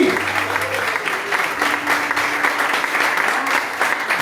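A church congregation applauds during a sermon, sustained and steady clapping from many people throughout, with faint voices beneath.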